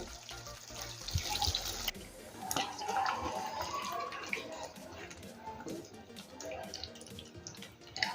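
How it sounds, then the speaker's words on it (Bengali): Hot salted water, previously used for soaking paneer, poured into a paneer and cauliflower gravy, making a running, splashing flow close by for several seconds with small clinks. "যে জলটাতে আমি পনির ডুবিয়ে রেখেছিলাম ওই নুন জলটাই আমি এখন এর মধ্যে দেবো।"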